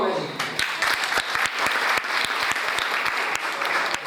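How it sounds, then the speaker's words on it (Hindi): Audience applause fills a motivational workshop hall at JSPM Group in Pune, steady dense clapping with a few sharp individual claps standing out, loud and continuous throughout. "अब तालियां बजाओ"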